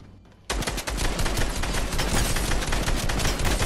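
Rapid automatic gunfire in the video game Fortnite, played in creative mode, erupts after a brief quiet start and continues as a loud, dense, unbroken fusillade of shots.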